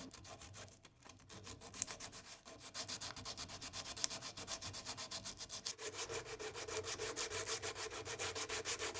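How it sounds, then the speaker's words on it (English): A wooden guitar neck is sanded by hand, with steady rapid back-and-forth rubbing strokes, close and continuous, that grow more regular and rhythmic toward the end. "If it doesn't feel good, maybe I'll sand it down a little bit more."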